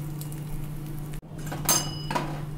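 Rice-stuffed paratha on a hot pan, a steady low hum and faint sizzle broken by a brief thud, then light clinks and scraping as the flatbread is turned, close and fairly quiet.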